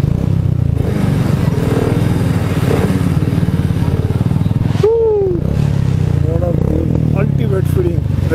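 Motorcycles ridden along a red carpet at the Patiala Heritage Military Festival, a steady, loud engine drone filling the whole stretch with a brief pause, while people talk over the rumble.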